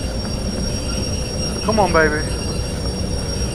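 Steam locomotive pulling two trains in the Derail Valley game, braking to slow some 100,000 kilos, with a steady rumbling rail noise and a brief squeal partway through, under someone talking.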